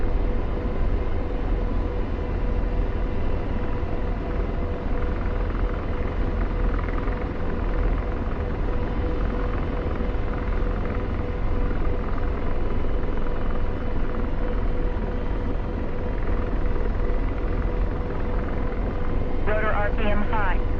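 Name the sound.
helicopter rotor in a combat search and rescue video game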